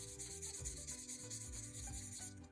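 Marker laying a light coat of Just Jade ink onto card stock for a sunflower birthday card leaf, a very faint, close, steady rubbing and scratching of the tip across paper with no voice.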